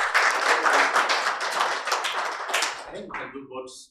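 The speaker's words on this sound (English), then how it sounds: "Please, a round of applause for him." Applause from an audience at a health report launch in Nigeria, a burst of close clapping that thins and fades toward the end, with voices speaking over it.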